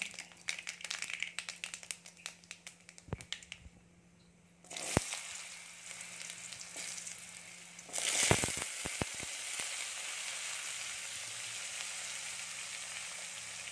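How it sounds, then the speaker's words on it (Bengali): Cut potatoes drop into hot oil already crackling with dried red chili and five-spice tempering, for a paneer posto dish; a quiet stretch gives way to a sharp burst, then a loud, steady sizzle with a few crisp clatters. "এবার আমরা এর মধ্যে কেটে রাখা আলুগুলো দিয়ে দেবো"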